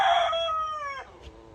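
American Bresse rooster crowing once, close and loud, a strong drawn-out call that falls in pitch and trails off, followed by quiet.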